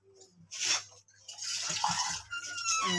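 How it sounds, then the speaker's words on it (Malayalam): Water poured into a pot of lentil curry (parippu theeyal), a short splash followed by a longer steady pouring and bubbling of liquid close by. "ഞാൻ ഒരു കപ്പ് വെള്ളം ഒഴിച്ചിട്ടുണ്ട്"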